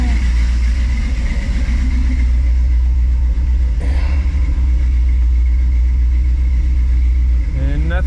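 1957 car engine idling steadily with a deep, loud rumbling drone close by, a brief clank near the middle and a short voice near the end.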